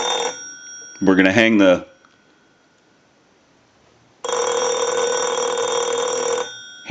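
Electronic telephone ringing on a Spirit of St. Louis telephone, triggered by an analyzer ring cycle: a loud, steady warbling electronic ring that plays in two bursts separated by a quiet gap, with a voice speaking briefly in between.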